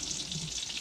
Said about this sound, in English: I got another one going. That's what that noise, that sizzling noise is in the background.